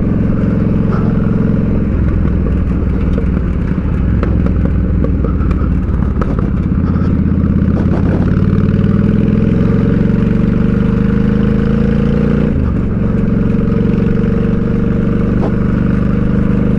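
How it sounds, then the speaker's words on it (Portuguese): A Honda Shadow 600 VLX with a 600 cc V-twin engine rumbles loudly while being ridden, a close, steady throbbing drone with shifting pitch as it accelerates and changes gear. "O motor dela é V2, 600 cilindrada"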